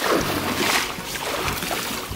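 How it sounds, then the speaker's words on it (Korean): A dip net sweeps through shallow freshwater to catch shrimp and snails, making a loud, close rush of sloshing water. The surge swells early and then settles into a continuous churning splash across the short stretch. "저희 형님께서 지금 잡으신다고 지금 뜨채질을 하고 있는데요"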